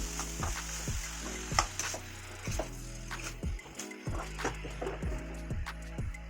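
A spatula stirs chicken and banana flower frying in a pan, with repeated scraping strokes over a steady sizzle, close and alone.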